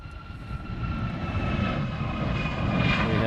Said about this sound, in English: We have a United 777 that's made it to the end of Alpha, and it is heading for the reef runway.